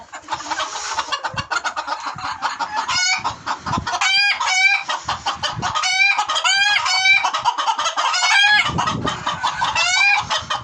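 A rooster crows repeatedly amid steady clucking from several hens, loud and close, with busy barnyard chatter throughout.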